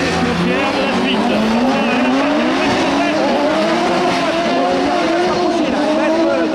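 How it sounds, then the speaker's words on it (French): Race cars, a BMW among them, drive on an ice track. High engine notes climb and fall while tires squeal and skid, and a commentator speaks over the action. "Dans le arrière de la BMW de Jonathan Hirschi, elle va tenter de venir se mettre au contact"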